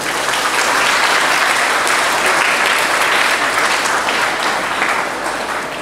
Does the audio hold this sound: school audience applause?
yes